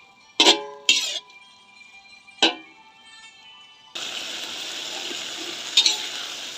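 Pad thai noodles tossed with a spatula in a wok: a few sharp metallic scrapes and clanks, then a steady, close frying sizzle.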